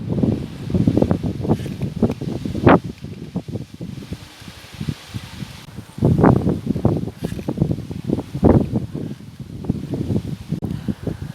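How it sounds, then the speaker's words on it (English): Strong gusts batter tall pea plants on a UK allotment, heavy with pods and leaning on a support structure. Foliage rustles in loud surging waves under rumbling wind buffeting the microphone, with no voices. "the wind is really starting to batter these plants"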